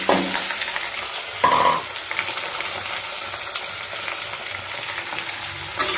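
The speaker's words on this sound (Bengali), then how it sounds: "পেঁয়াজটা ভালো করে ভাজা ভাজা হবে," Onions and tomatoes fry together in a pan for a chicken fried rice lunch, giving a steady, close sizzle that runs throughout with a brief stir-scrape partway through.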